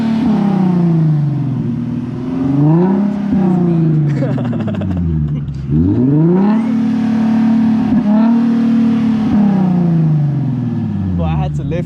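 A Nissan 370Z with a new loud aftermarket exhaust revs repeatedly, its engine tone sweeping up and settling back in several long, close, loud pulls as people talk around it.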